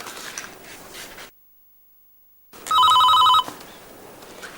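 An office telephone in a Hindi drama scene gives one loud, close, trilling ring after quiet paper rustling and a moment of silence, then soft scraping sounds resume.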